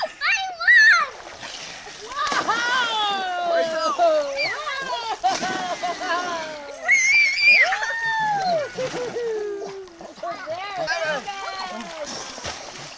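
Children swim and paddle in water, sending up busy, continuous close splashing under loud shouts from adults and kids.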